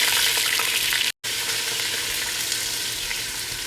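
Ginger, garlic, curry leaves and raisins sizzle loudly in hot oil after mustard seeds pop, a dense continuous frying hiss close by, broken only by a split-second gap.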